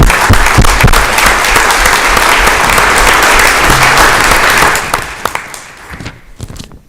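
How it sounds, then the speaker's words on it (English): An audience at a Durham town meeting claps loudly and steadily for several seconds, the dense applause thinning out into scattered final claps near the end. "So a big hand of applause for Rich."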